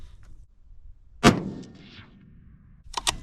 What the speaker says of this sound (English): We're shooting 74 grains of LRT first in the 7 Rem Mag.